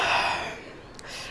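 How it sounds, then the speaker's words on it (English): A person yawns with a breathy, fading exhale close by, short and soft. "I'm feeling sleepy. I'm yawning."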